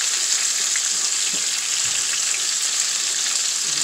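Chile frying in oil in a pan makes a dense, even, hissing sizzle that holds loud and unbroken throughout, with no talk.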